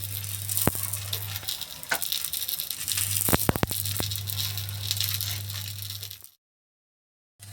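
Aloo matar paratha frying in oil on a hot tawa, giving a steady broadband sizzle with a low hum underneath, broken by a few sharp clicks and rattles near the middle before the sound cuts out and briefly returns.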